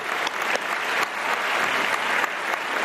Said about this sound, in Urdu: بہت ساری تالیاں آپ کے لیے